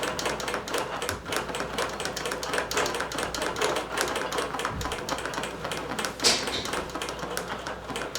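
A computerized quilting machine stitches loops across a quilt in a fast, steady mechanical chatter of needle strokes that picks up speed, with one sharper clunk near the end.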